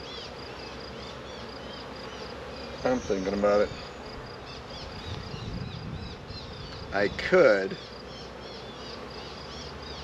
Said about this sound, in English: I saw a bee with pollen actually, but it could have been one from this box.